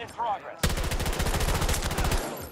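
Rapid automatic gunfire from a drum-magazine weapon in Battlefield 2042 rattles out in one loud sustained burst of about a second and a half after a brief voice.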